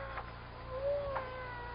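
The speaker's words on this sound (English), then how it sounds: "I hear a cat." A cat meows once as a radio drama sound effect, a single drawn-out, rising-and-falling cry in the middle of a quiet, hissy scene with no talk.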